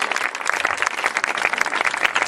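An audience at a church Easter program in Sialkot claps steadily, dense sustained applause from a crowd, loud and continuous without voices.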